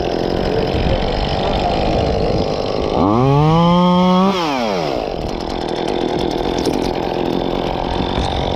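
A chainsaw cuts back tree branches along a fence line near power lines. The engine idles, then revs hard for a second or two before dropping back to idle. It is loud and close, and wind noise runs underneath.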